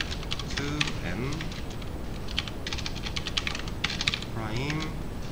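Code goes in through a computer keyboard in steady bursts of quick, close clicking keystrokes with short pauses between runs, and a voice talks over part of the typing.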